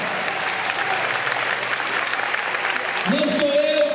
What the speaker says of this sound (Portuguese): Pode aplaudir o Senhor nessa noite.